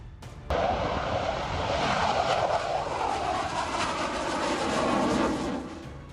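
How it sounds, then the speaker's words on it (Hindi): A Tejas MK-1A fighter jet roars overhead as a loud, continuous engine rush that starts abruptly, holds steady for several seconds, then fades slightly. "तेजस MK-1A की उड़ान, हिंद के दुश्मन परेशान।"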